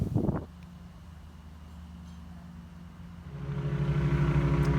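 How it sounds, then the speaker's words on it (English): After a sharp knock, a Sawzall reciprocating saw starts cutting through a wall stud during a bathroom exhaust fan install, its motor droning steadily and growing louder near the end. "now I'm going to use the Sawzall to make the penetration through the stud inside"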